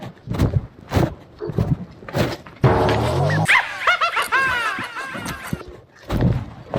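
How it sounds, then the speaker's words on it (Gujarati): Dogs in a market bark repeatedly in a mix of yelps and whines, loud and close, among people talking before and after. "આ કૂતરા છે ને હા આ બજારમાં આવી છે"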